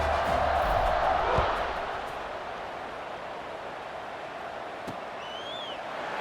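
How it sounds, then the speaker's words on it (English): Stadium crowd at a Sam Houston State college football game buzzing after a score, a broad sustained roar that swells loudly at first, then settles into a steady, softer murmur. "this crowd is buzzing after that last score"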